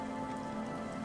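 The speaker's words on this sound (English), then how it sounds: "It's been raining all day." Steady rain from the video game Disco Elysium falls continuously, a dense, even hiss of drops on surfaces with a constant low hum beneath, no voices.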